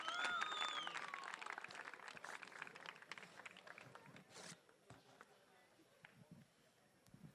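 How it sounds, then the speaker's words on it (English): Audience applause at a 2024 Lifetime Achievement Award ceremony, a dense crowd clapping that starts strong and slowly thins out, with scattered claps continuing toward the end and some crowd noise mixed in. "A big round of applause, please, ladies and gentlemen."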